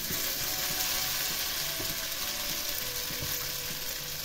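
Potato and onion pancake batter sizzling in a frying pan, a dense steady crackling hiss with faint clinks of a ladle or utensil underneath, close and continuous with no talking.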